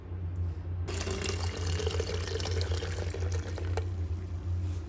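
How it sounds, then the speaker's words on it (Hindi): Boiled tamarind water pours through a strainer in a steady, close splashing trickle that starts abruptly and continues without a break, with no talking over it. "मैंने आग बंद कर दी है और इस पानी को अब मैं छानने लगी हूँ।"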